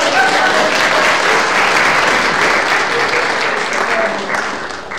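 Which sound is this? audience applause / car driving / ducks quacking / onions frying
audience applause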